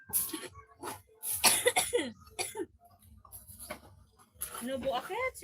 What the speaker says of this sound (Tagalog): Sino ubo akit?